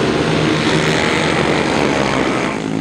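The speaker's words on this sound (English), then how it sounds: "The revs rise and away they go." Grasstrack racing motorcycle sidecar outfits rev hard at the 2003 start line, a loud, dense, continuous engine roar that stays close and steady before easing slightly at the end, with no voices.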